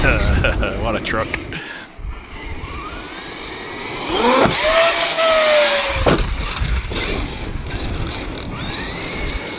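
A Traxxas X-Maxx 8S RC truck runs nearby, its motor whine rising and falling in pitch over a steady mechanical hum, loudest in the middle stretch.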